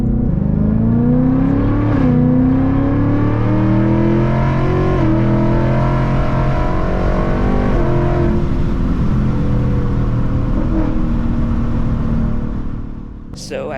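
A 2024 Ford Mustang GT with long tube headers downshifts, its loud, steady engine drone rising and falling in pitch as revs change, close and continuous for most of the run before easing off at the end.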